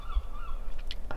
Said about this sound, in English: There's a seagull here. We don't ever get seagulls here.